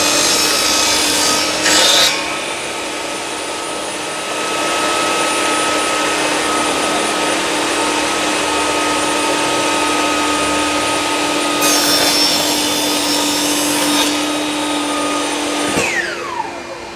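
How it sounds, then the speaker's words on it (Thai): A Bosch table saw with a coarse blade whines at a steady pitch, grinding louder in two bursts as the blade bites into wood, then the motor spins down at the end. "เดี๋ยวผมเปิดเครื่องนะครับ ลองดู เดี๋ยวลองตัดดู"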